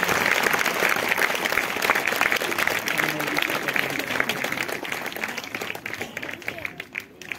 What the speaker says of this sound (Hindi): प्रभु के लिए जोरदार तालियां बजाएंगे,